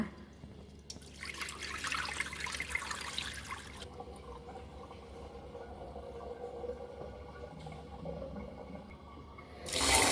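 Rinse water poured off washed rice in a home kitchen while cooking Thai food, a close, steady splashing gush for about three seconds, then quieter trickling and dripping, with a final loud splash at the end.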